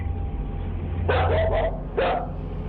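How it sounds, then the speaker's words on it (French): A frightened dog barks, a short cluster of three quick barks followed after a pause by one more, fairly close over a low steady background hum. "Puis, il se met à aboyer."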